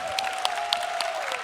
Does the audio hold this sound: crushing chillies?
no